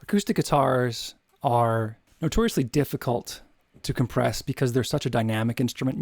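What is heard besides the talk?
No distinct noise like a dog, phone or traffic.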